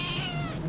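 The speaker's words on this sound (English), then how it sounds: "I love this cat literally more than anything." A pet cat meows continuously in one drawn-out, fairly loud call indoors, close to the microphone, with no talking over it.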